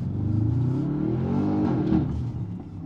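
The 740 hp Audi RS7-R ABT with an IPE exhaust on a hill climb, a loud, rising engine roar heard from inside or close by, holding steady before easing off.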